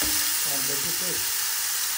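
Onion paste sautéing in a pan, a close, steady sizzle with brief stirring scrapes in the middle and a faint voice murmuring underneath.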